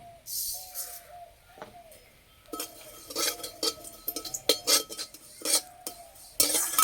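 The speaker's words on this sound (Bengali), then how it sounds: "সাদা তিল হালকা করে একটু ভেজে নেব।" White sesame seeds dry-fry in a pan while a metal spoon stirs them, giving a series of close, light scraping clinks and taps in irregular bursts at moderate volume.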